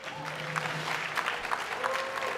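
Steady crowd applause at an awards event, a dense wash of clapping that holds at an even level for a couple of seconds, with faint voices mixed underneath.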